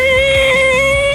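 An ungreased linkage pin on heavy equipment lets out a loud, sustained, ear-piercing metallic squeal, steady and shrill for about a second with faint rhythmic creaks underneath.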